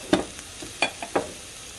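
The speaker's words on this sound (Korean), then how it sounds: "마늘을 넣겠습니다. 그리고 토마토 퓨레도 넣겠습니다." Garlic and tomato puree hit a hot pan, giving a few short close sizzling bursts and stirring scrapes against a quiet background.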